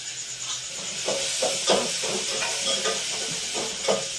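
Food frying in a home kitchen gives off a steady close sizzle and hiss, with a regular series of soft stirring scrapes running through it.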